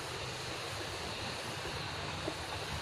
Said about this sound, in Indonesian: Ini bawahnya sungai.